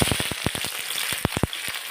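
Onions tipped into hot mustard oil for chilli paneer, sharp crackling pops and spits over a bright sizzle, close and fairly loud in a brief burst.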